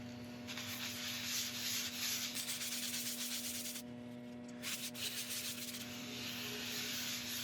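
Steady abrasive rubbing of an experimental paste against a beech bowl spinning on a woodturning lathe, with a continuous motor hum beneath a hissing sanding texture that briefly drops out and returns.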